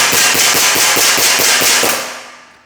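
An airsoft Glock pistol powered by green gas fires a rapid string of about ten snappy shots in quick succession, loud and close, ending in a hissing fade as the gas runs out.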